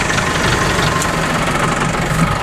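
A tractor engine idling at a rowdy outdoor gathering, a steady loud mechanical rumble with a knocking, vibrating texture, continuous and near, with no talk over it.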